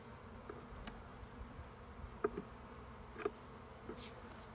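A hive of honey bees buzzing during a spring hive inspection in North Seattle, a faint steady drone with a few soft knocks and nearby wing passes.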